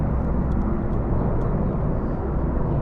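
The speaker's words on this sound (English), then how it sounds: "Sorry, these are the Merlins." Merlin military helicopters flying past at a London air event, a loud, steady broadband engine and rotor roar that holds evenly throughout with no talk over it.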